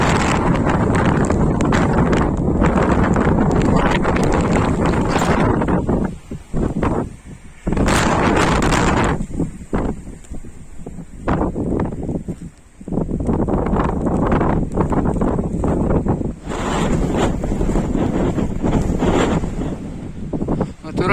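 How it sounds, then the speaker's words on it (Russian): Blizzard wind gusts roar across a mountain on the Southern Demerdzhi in Crimea, loud and nearly continuous with buffeting on the microphone, easing briefly between stronger surges. "Чем дальше, тем метель больше. Порывы ветра все больше и сильнее."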